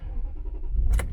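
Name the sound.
2003 Toyota 4Runner 4.7 V8 engine starting and idling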